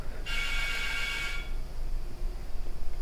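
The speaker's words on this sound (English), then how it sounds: "I had to answer the phone" A telephone rings once in a single sustained electronic burst lasting about a second, fairly loud in a quiet room, followed by low background hum.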